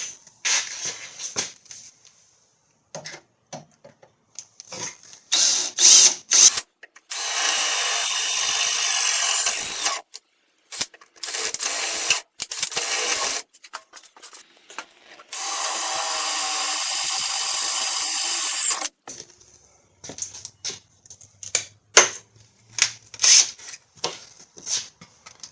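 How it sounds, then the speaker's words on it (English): A power drill bores holes into a heavily rusted 2004 Ford F-150 frame during a frame repair, with several sustained bursts of loud, close whining interrupted by short pauses and clattering handling noises. "I'm gonna drill them holes."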